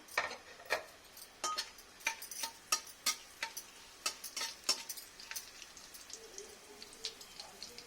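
Cumin seeds and dried red chillies spitting in a little hot oil for palak paneer, a run of sharp, irregular crackles and pops close by, quiet overall and fading to sparser ticks toward the end.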